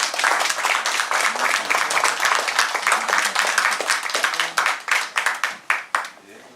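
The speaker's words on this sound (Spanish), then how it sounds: "Fuerte los aplausos, por favor." Audience applause at an evening lecture-series event at a municipal library, a dense, loud burst of clapping that thins out toward the end into a few scattered claps.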